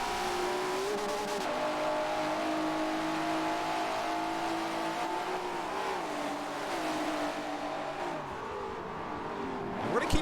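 Race cars in the Forza racing game roar steadily out of a turn and down a back straight, engines droning loud and continuous with shifting pitch as they accelerate.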